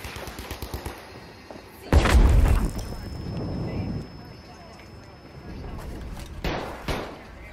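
A grenade explodes in the shooter game Battlefield V with one loud, deep boom that rumbles for a couple of seconds, surrounded by gunfire and players talking.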